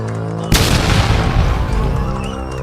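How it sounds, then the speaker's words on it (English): A sudden loud boom from a pressure cooker bomb explosion at the Boston Marathon bursts in and rumbles on for about two seconds, with faint background sound before it. "2 pressure cooker bombs explode, killing 3 people in the process and injuring hundreds"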